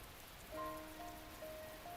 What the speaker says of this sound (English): The sound of the rain outside our dark little room seems to grow louder.